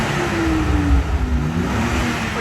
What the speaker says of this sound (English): Hear that straight six though, can't you?